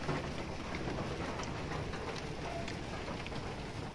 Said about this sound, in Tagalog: pakita ko sa inyo na umuulan po dito sa amin